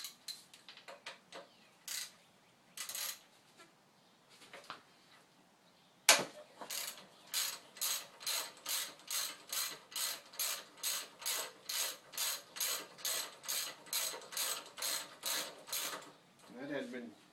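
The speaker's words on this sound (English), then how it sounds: "Get this shock bolt off. I think it's a 12 millimeter." A ratchet wrench works a 12 mm shock bolt loose on a Honda Express NC50 moped. After a few scattered clicks comes a long run of steady, evenly spaced ratcheting clicks, close and distinct, with no talk over it.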